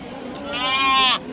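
A goat at a weekly sheep and goat livestock market in Honnalli, Karnataka gives one drawn-out, wavering bleat up close, rising in the second half over low crowd murmur.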